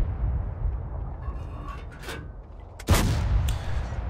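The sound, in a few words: tank cannon shot in a video game, M26 Pershing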